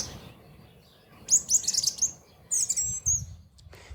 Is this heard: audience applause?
no